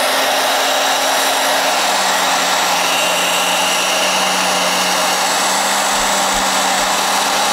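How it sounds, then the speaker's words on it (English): A hair dryer set to hot on high speed blows into a computer power supply, a loud steady whooshing roar with a constant hum that runs unbroken from start to finish. "So I have the hairdryer and I have it set on hot, and I'm gonna go ahead and blow it on high speed"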